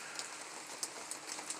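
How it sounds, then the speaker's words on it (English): Rain falling outdoors, a soft, even hiss scattered with faint tapping drops, quiet and continuous, with no speech. "Oh yeah, and it's raining."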